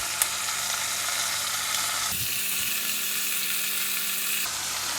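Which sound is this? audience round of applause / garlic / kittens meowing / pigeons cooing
garlic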